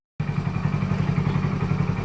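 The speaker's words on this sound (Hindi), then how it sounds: "बाहर बाइक की आवाज़ सुन गई" A motorcycle engine idles or runs just outside a house, starting abruptly after silence and then holding a steady, throbbing low drone, fairly close and loud.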